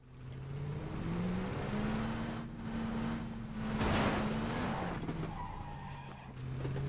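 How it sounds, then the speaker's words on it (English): Car engine in the battle royale game PUBG, a sustained droning engine note that rises and falls with tire skidding and a louder surge mid-clip, with no talking. "Rev this shit, bro!"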